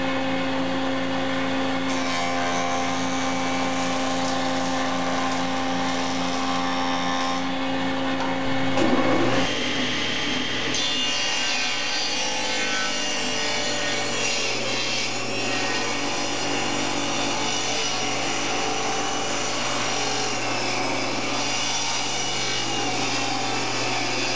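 A table saw runs steadily while milling leftover wood stock from a slab for an inlaid bench, a loud continuous machine drone with a brief surge of cutting noise partway through as the blade bites the board.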